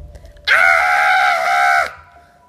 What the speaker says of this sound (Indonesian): Teriakan Bu Silo terdengar mengerikan